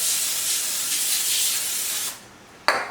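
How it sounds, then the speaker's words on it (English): Olive oil cooking spray hissing steadily onto hands in a kitchen, a continuous close spray lasting about two seconds, then a pause and one short final burst. "I'm just gonna spray my hands a little bit with that olive oil spray."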